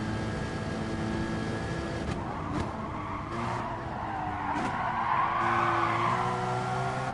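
A Gr4 race car tears around St Croix B in GT Sport at full speed, the engine droning steadily while tires squeal and skid through the corners in long, loud smears.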